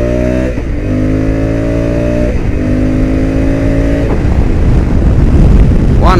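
A 2021 Honda Africa Twin motorcycle accelerating hard on a race track, engine pitch climbing through repeated gear shifts, loud and close, revving steadily higher before easing off.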